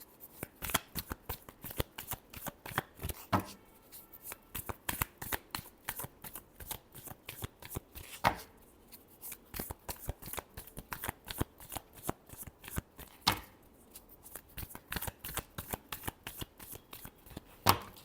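A deck of tarot cards is shuffled by hand again and again, quiet close riffling bursts in an uneven rhythm with short pauses between them.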